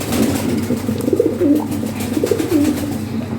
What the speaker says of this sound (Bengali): একদম ফ্রেশ মার্কিং কবুতর, হাই কোয়ালিটি কবুতর।